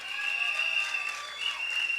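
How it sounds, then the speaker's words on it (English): Audience applause at a UNC political report event, a steady, dense wash of clapping held at an even level throughout, fairly close and without pauses. "Folks, a round of applause again"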